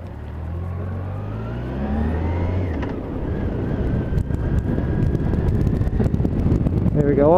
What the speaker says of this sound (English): Traffic's pretty heavy for a Sunday.